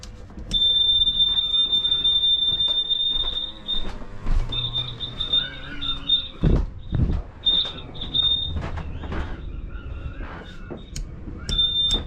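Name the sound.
alarm triggered by water pump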